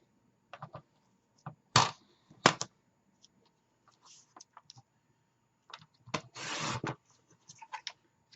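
Craft paper for a round shadow box being cut at a measured mark, heard as scattered dry snips and rubbing scrapes with a longer rasping cut near the end, quiet and close with pauses in between.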